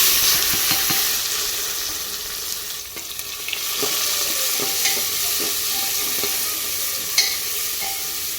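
Spices for a Marathi-style phodni tempering fry and sizzle steadily in a pan while being stirred for soybean pulao, with a constant hiss and occasional clinks and scrapes of the spoon.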